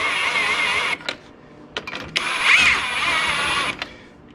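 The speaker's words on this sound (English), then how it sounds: "I would recommend putting your impact on super slow speed, because we're going to roll these down a little at a time" An impact wrench on slow speed runs down wheel lug nuts in short whirring bursts separated by brief pauses, close and fairly loud, with a mechanical rattle.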